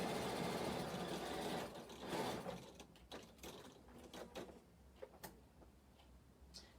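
A sewing machine stitches a decorative daisy pattern, starting with a sustained whir that gives way to irregular mechanical ticks and clicks, close and moderately quiet, with no speech.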